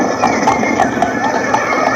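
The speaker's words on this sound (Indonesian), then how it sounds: "Celaka, Ki Demang Cangkudu datang dengan pasukan berkuda" Hooves of a mounted soldiers' cavalry troop clop in a quick, even galloping rhythm as a radio drama effect, moderately loud over a steady droning background, with no voices.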